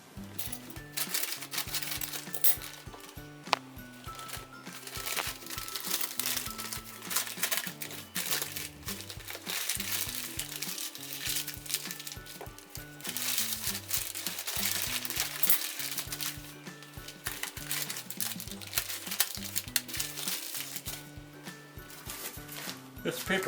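A paper bag with a string, used for curing homemade lonza, crinkles and rustles steadily as it is handled up close, while a person talks over the handling.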